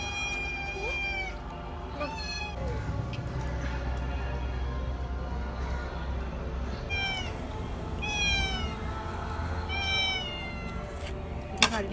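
A cat meows repeatedly in short upward calls at a household during the day. The calls come in clusters over a steady background hum, fairly close and clear.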